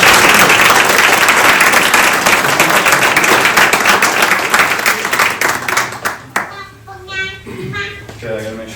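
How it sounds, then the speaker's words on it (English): Round of applause at a home key ceremony for a Have a Heart home, dense clapping from a crowd for about six seconds that thins into scattered claps as voices rise. "Everybody, round of applause."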